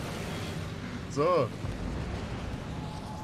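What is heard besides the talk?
naval gunfire shot in the video game World of Warships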